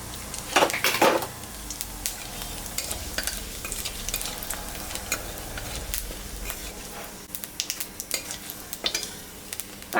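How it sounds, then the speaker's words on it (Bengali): Cumin and dry chillies tempering in mustard oil over leftover fish-frying oil, a steady sizzle broken by frequent utensil scrapes and clinks against the pan, close by, without speech. "মাছ ভাজা তেলের উপরে আর একটু সর্ষের তেল আমি দিলাম,"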